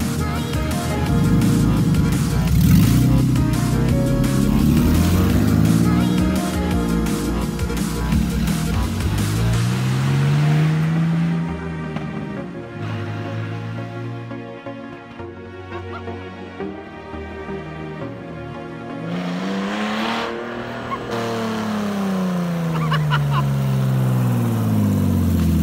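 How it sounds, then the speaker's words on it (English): A BMW E36 engine runs steadily with rising and falling revs as it drives, a continuous mid-pitched hum with some background noise and faint voices. "the car does run and drive under its own power"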